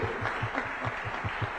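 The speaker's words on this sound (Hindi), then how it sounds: "जोरदार तालियों से स्वागत कीजिए।" Rhythmic clapping from a crowd, steady and fairly even, heard at a moderate distance over a continuous background hum.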